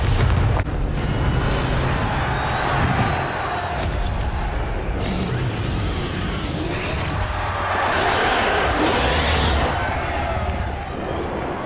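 Bombarda blasting spell explosions going off in Hogwarts Legacy on Nintendo Switch, heavy booming bursts layered over continuous loud game noise and a dense battle mix, with other spell sounds around them.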